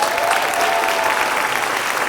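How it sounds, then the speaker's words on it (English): A room full of people claps steadily, a dense wash of applause at even volume throughout, with no voices standing out. "Can we give them a round of applause?"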